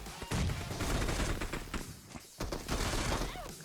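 Dense shotgun fire in the mobile game PUBG Mobile, a rapid, loud barrage of overlapping blasts and thuds that fills nearly the whole stretch with only a brief lull, and a voice speaks faintly underneath.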